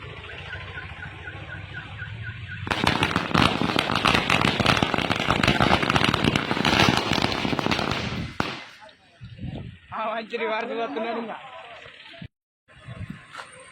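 Firecrackers burst in a long, dense, crackling barrage at a Ganesh idol procession, loud and continuous for several seconds, then fade into scattered sounds and voices.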